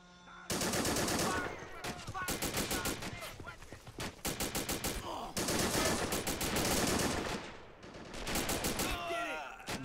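Rapid bursts of grease gun automatic fire in a WWII Normandy hedgerow video game, loud and repeated, with overlapping volleys and short gaps between strings of shots.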